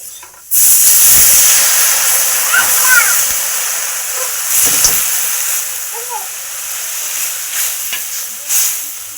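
Water poured into a hot pan of fried vegetables with turmeric bursts into a loud, close hiss of steam that holds steady and slowly fades, with a few faint clinks and a brief soft voice in the background.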